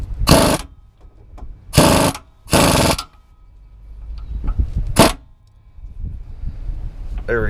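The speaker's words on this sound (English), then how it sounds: "I'm just going to tighten this nut until the play is gone." A nut is tightened on an LT1 car's rear gear assembly in a series of loud, bursty ratchet-wrench clicks, three close together and another a little later, with quieter metallic handling sounds between.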